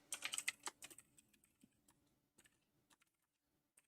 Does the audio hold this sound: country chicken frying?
no